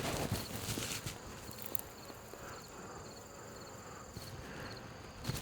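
Honey bees buzz steadily during a colony hive inspection, a faint continuous drone filling the background with no talking.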